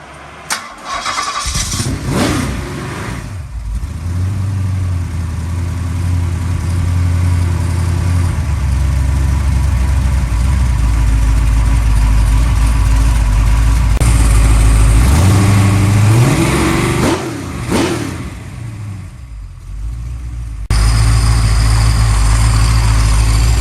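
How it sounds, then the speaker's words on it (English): A 1965 Ford Mustang engine fires up for its first start and settles into a loud, steady idle, with revs rising and dipping around the midpoint before it keeps running. "And of course, Maggie guarded the engine until time for the owner to see the first start."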